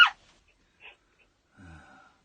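A person imitates heavy breathing for a prank phone call on a live radio show, giving a few short, breathy puffs and a wheezy exhale separated by silence.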